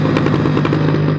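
A motorcycle engine roars loudly and close with a rough, pulsing rumble that sounds like firecrackers, cutting off abruptly at the end.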